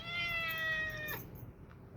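A single drawn-out cat meow, close and clear, fading into quiet room tone.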